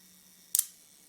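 A Werra 1 camera's Synchro Compur shutter fires on its self-timer, giving one sharp, close mechanical snap with a quick double click over a faint steady hum.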